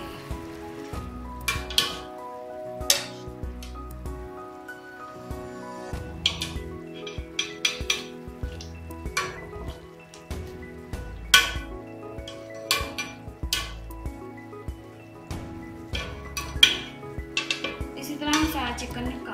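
Cooked chicken lifted from a pot of chicken yakhni broth onto a plate, with repeated close metal clinks and scrapes of a utensil against the pot and dish, some sharp and loud, over soft simmering.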